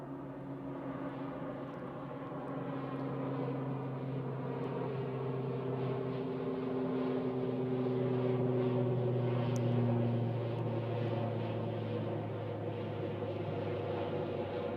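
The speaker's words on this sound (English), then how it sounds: "Got the ATR there just taking off" An ATR turboprop taking off at Manchester, heard as a distant, fairly faint propeller drone with steady humming tones that swells gently toward the middle and holds, with no voices.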